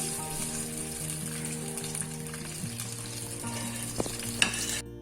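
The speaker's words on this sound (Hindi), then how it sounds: "मीडियम फ्लेम पे मैं इसे थोड़ा सा भून लूंगी" Garlic ginger paste frying and being stirred in a pan over a medium flame, a steady soft sizzle with a few scraping stir sounds, under background music and with no talking.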